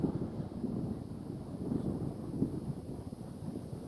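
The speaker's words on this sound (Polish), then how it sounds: "A wiatr się zerwał." Wind gusting through a forest, a faint, steady low rushing with no other distinct sounds.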